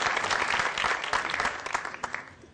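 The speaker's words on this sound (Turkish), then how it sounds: "Alkışlıyoruz kendisini" An audience claps for an award recipient at a radio awards ceremony, a dense burst of applause that fades out over a few seconds.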